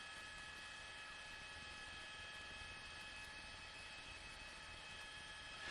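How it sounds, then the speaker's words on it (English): An LAPD police helicopter hovers overhead during a police speed chase, its steady droning rotor and engine hum continuing evenly throughout at a moderate distance. "now that's an LAPD helicopter"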